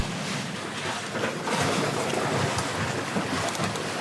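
Sailboat moving through bouncy waves at sea, with a continuous loud wash of water and wind rushing past, steady throughout with slight surges, no talk.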